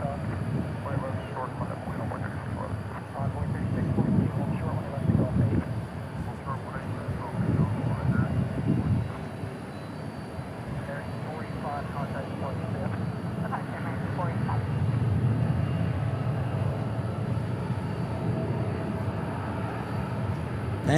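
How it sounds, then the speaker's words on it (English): A UPS jet being pushed back at DFW International Airport, its engines giving a steady, fairly distant roar and rumble that swells and fades over the stretch, with people talking throughout. "Oh, we got a UPS pushback."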